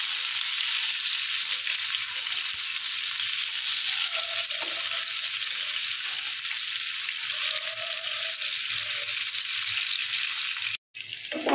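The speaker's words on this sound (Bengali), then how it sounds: "একটু লাল লাল স্পট করবে সেভাবে পটলগুলোকে ভেজে নিতে হবে।" Pointed gourd pieces frying in hot oil give a steady, close sizzle and crackle that runs unbroken for the whole stretch, with faint clinks and a short dip near the end.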